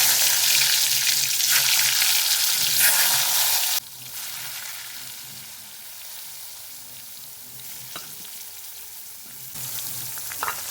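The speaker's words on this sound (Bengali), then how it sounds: "একটু বেশি করেই তেল দিলাম, কেন এই তেলেই পটলও ভাজা হবে" Pointed gourd pieces fry in a generous amount of oil with a loud, dense sizzle that suddenly drops to a quieter crackle, punctuated by occasional clinks, and no one speaks.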